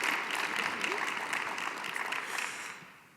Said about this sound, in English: Can we give our esteemed panelists a round of applause